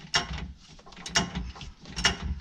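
A wrench ratchets as a nut on the left cross member of a Dodge Viper is loosened during differential removal, giving three clicking, grinding bursts in an even rhythm, close and moderately loud.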